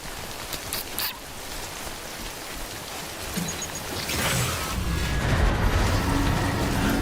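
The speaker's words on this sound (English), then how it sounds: "And the rain is going to damage my cargo." Rain in the video game Death Stranding, quiet and patchy at first, then swelling into a heavier, denser downpour with a low rumble underneath over the last few seconds, with no voices.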